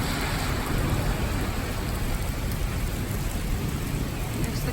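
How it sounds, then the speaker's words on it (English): Steady, dense rain falls on pavement and ground outdoors in Denver, Colorado, near trees, a loud continuous wash of hiss and patter with no pauses or voices. "See the rain on the ground."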